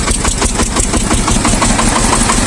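Shifeng 240 mini tractor diesel engine running after sitting through winter, a loud, close, steady idle with a rapid knocking pulse throughout.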